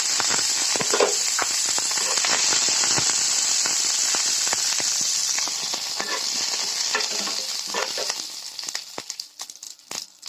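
Loud, bright sizzling of curry leaves and chana dal hitting hot oil, with sharp crackles and pops scattered throughout, tapering off slightly near the end.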